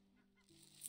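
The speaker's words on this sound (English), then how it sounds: "I swear I just heard a chicken." A brief, faint cluck-like fowl call rises near the end of a quiet second of game ambience in Old Market Simulator, a chicken sounding somewhere in the market scene over a low steady hum.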